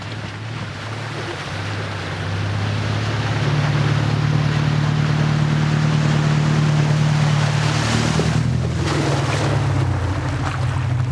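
A bus drives through a deep water-filled washout, its engine droning low as rushing, splashing water builds and stays loud before easing off near the end.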